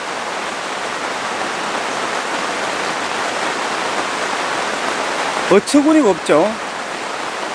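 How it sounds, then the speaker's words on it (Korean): Heavy rain pours down steadily over a farm field during harvest in a dense, continuous hiss, and someone speaks briefly near the end. "제가 손이 막 젖을 정도로 비가 많이 옵니다"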